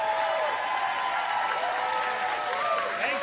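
A large crowd at a political event applauds and cheers, a sustained dense wash of clapping with whistles and voices mixed in, loud and continuous, while someone talks over it.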